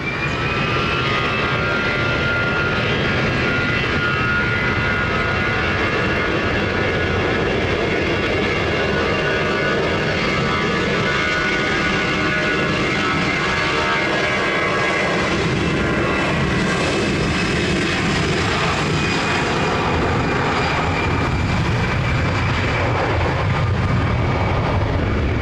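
Airliner jet engines powering up for takeoff from runway 20 at Lisbon Airport, a loud continuous roar with a steady high whine that swells slightly toward the end.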